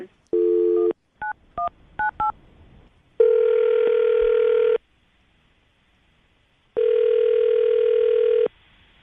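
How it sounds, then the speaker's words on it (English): A phone call is placed: a quick burst of keypad dialing beeps, then two long, loud ringback tones separated by a pause of silence. "I'm going to call him right now, see if we can get him on the phone."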